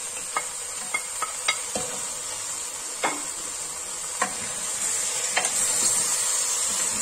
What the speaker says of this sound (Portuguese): Vou deixar dar uma refogadinha nesse tomate, juntamente com os pezinhos aqui de frango.